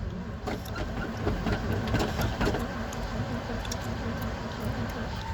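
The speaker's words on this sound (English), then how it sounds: "The starter's a little messed up." A Ford F750 truck with a faulty starter and a carburetor needing adjustment cranks and churns loudly and unevenly, its engine struggling with rough, rattling pulses up close.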